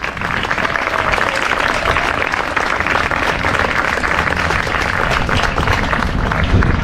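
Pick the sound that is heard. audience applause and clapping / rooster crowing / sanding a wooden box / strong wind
audience applause and clapping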